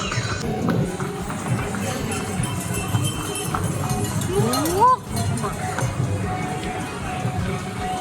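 Many horses walk a crowded pilgrimage path to a mountain shrine, their hooves clip-clopping amid pilgrims' chatter, with someone talking nearby throughout.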